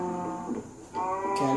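Minecraft cow mooing in a short, near series of harmonic, drawn-out calls in a video game, with two moos separated by a brief pause.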